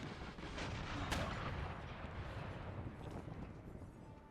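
Cannon artillery fire in the strategy video game Empire: Total War, a dense continuous rumble of distant booming shots with one sharper crack standing out, no talk over it.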